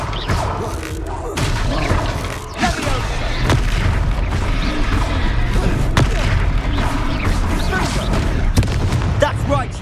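Booming blasts of the Confringo spell cast in the Hogwarts Legacy video game, loud repeated impacts and crashes amid dense battle noise and music, with voices shouting over the fight.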